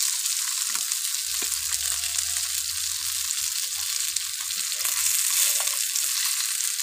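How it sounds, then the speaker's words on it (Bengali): Fish fries in hot oil in a home kitchen, giving a close, continuous hissing sizzle that stays even for several seconds and is heard alone without talk. "মাছ ভাজছি বেটা"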